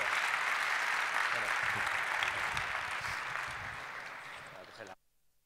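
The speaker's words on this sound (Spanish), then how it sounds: "Un aplauso para ellos y para vosotros" Audience applause at a tech conference talk at T3chFest 2019, with a crowd clapping steadily at moderate volume for about five seconds before it cuts off abruptly into silence.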